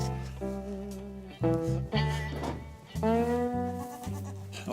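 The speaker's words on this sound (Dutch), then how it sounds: "Nou, en dat is een geitje" A young goat bleats in several wavering, drawn-out calls, one after another with short pauses, close by and fairly loud with no talking over it.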